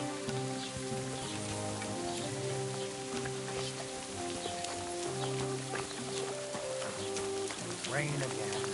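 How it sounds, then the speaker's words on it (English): Rain falls in the video game Kingdom Come: Deliverance 2 as a soft continuous patter beneath steady game music, with faint hoof clops near the end. "rain again."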